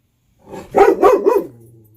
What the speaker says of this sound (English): Simba says hi to Karma and all of his other puppy friends, especially the pugs from Northern Ireland.